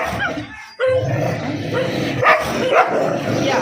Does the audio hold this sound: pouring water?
no